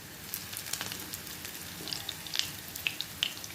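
Jackfruit seed cutlets fry in a pan with a soft, steady crackle and scattered sharp pops of oil, fairly faint and close, with no talk.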